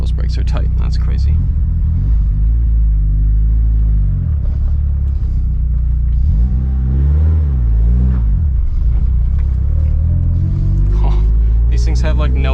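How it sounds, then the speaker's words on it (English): A Mitsubishi Lancer Evo being driven through Texas, its deep steady engine rumble rising and falling with throttle changes, heard from inside the car while a person talks throughout. "This is supposed to be my first time driving an EVO in Texas."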